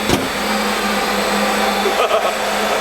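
A motorcycle running hard on a dyno testing unit in Singapore, heard as a loud, continuous engine drone with a steady hum throughout, rising briefly near the end. There is no speech.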